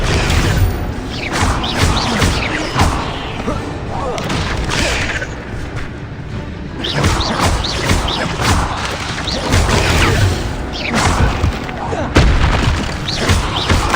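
Spell-casting blasts in the Hogwarts Legacy video game, including Expelliarmus, fired during a fight with spiders on a bridge. Loud booming impacts and crashes come repeatedly, thick with game effects and background score, and a voice talks over them.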